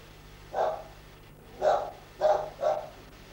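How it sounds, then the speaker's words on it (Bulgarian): Dogs bark outdoors at a bus stop in Bardari village: four sharp barks at moderate distance, one alone and then three in quicker succession, over a quiet low background hum. "Правят кучетата."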